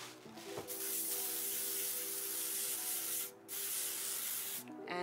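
Holding spray misted onto a lace wig in a long, steady hiss, broken by one short pause before the spray resumes.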